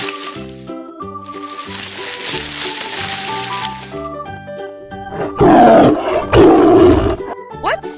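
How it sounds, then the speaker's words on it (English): A tiger gives a loud roar that rises in the second half, with a short musical jingle at the start from an animal sound guessing game. "Right! It's a tiger."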